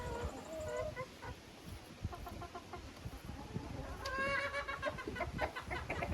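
Chickens and an old rooster at a dacha in a Ukrainian village, clucking in short repeated bursts nearby over a rustling, scratchy background, growing busier toward the end.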